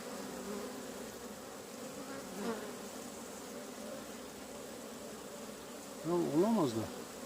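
Honeybees hum steadily around double-deck beehives during feeding and comb work, a continuous close drone with a few louder passes of individual bees near the end.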